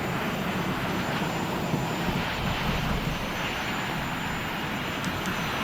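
Sabreliner business jet engines roaring steadily during the climb just after takeoff in a Prepar3D simulator, a continuous broadband jet drone holding at constant loudness with no talking.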